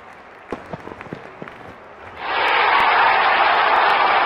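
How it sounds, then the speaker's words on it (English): Cricket stadium crowd erupting into a sustained roar of cheers and applause after a six, preceded by a few scattered claps and shouts before the full loud, continuous wall of noise takes over. "crowd is going crazy"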